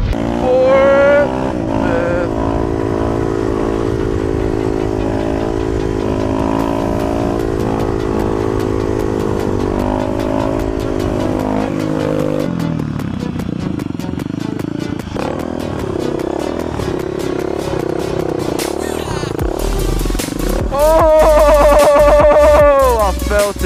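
A motorcycle engine revs hard and climbs through several gears, loud and close, with a roaring wind-up toward the end and voices briefly heard over the engine.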